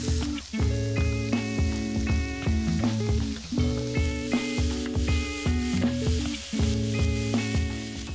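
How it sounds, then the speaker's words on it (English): Burdock root and carrot are stir-fried in a pan for kinpira gobo, giving a steady, close sizzle broken by the scrape and clatter of stirring that runs throughout. "add the burdock root and carrot. We'll just stir fry them for a few minutes until softened."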